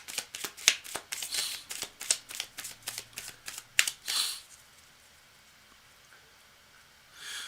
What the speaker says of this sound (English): Cards are already well shuffled and cut, but I'm going to do it again.